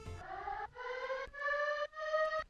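Alarm chop sample in a dirty moombahton remix: a series of four or five sustained, buzzy siren-like tones, each a slightly different pitch, chopped into even back-to-back segments, with no voice.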